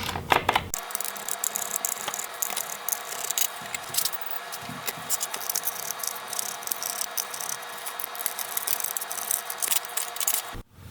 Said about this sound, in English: to do that, we just remove the screws